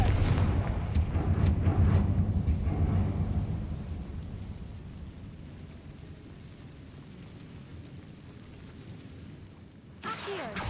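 A Confringo blasting spell exploding in the Hogwarts Legacy video game: a deep, loud rumbling boom with crackling debris at the start that slowly fades into a low lingering roar, ending with a brief sharp noise.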